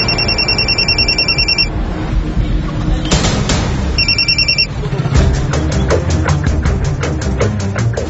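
A telephone ringback tone repeats in regular double bursts while calling someone, broken by a few sharp clatters and handling noises, then steady rhythmic pulsing toward the end.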